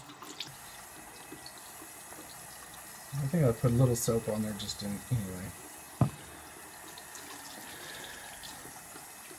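Warm water from a tap splashes for a few seconds while a resin 3D print from a Wanhao Duplicator 7 printer is rinsed, a close, uneven gush between quieter moments, with someone talking around it.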